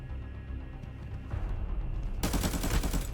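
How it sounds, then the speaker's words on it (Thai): Gunfire in the video game Arena Breakout: low distant shots at first, then a sudden loud, close burst of rapid automatic fire filling the last second. "เสียงปืนอะไรเนี่ย"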